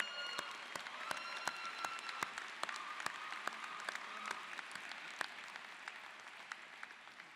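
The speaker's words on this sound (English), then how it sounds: "Round of applause" Audience applause at a university commencement ceremony honoring an honorary doctorate recipient, a steady, moderately distant wash of many hands clapping with sharper individual claps popping through, sustained without pause and no speech over it.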